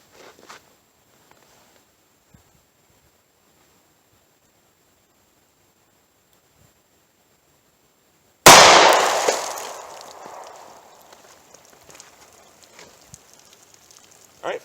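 Near silence breaks into a single sharp, loud .38 Special jacketed hollow point gunshot into water jugs, followed by a splashing, hissing decay that trails off over several seconds.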